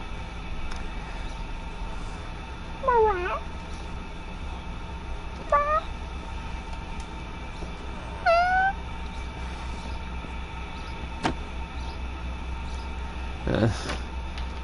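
Cat meows in Minecraft: four short rising-falling meows spaced a few seconds apart, moderately loud over a low steady hum, with a sharp click near the end.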